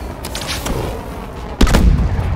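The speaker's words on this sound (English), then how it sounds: "Smart grenade." Smart grenade detonating in Call of Duty: Advanced Warfare, a sharp booming blast with a deep low-end thump near the end, preceded by quieter gunfire-like cracks, no talk.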